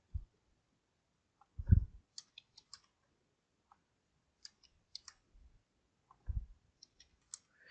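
A computer mouse clicking in PlanSwift software, giving sparse, crisp single clicks spread across a quiet background, along with a few low thumps.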